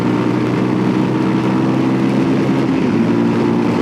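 A Voge 300 Rally motorcycle engine drones loud and steady while riding, a continuous close engine roar mixed with wind rush and no break.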